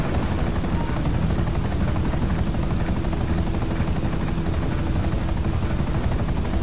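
Akula helicopter in the GTA Online video game, flying with a steady, loud rotor and turbine drone that stays constant and close throughout, with no talking.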